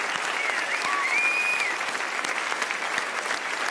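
An audience at the 2017 Diabetesgalan awards gala applauds, a dense, even roar of clapping hands that holds steady and loud from start to finish.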